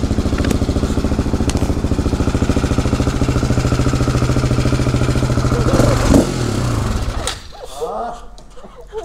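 A Harley-Davidson motorcycle engine idles steadily with a chugging, rhythmic throb, loud and close, then cuts out near the end, leaving quieter rustling.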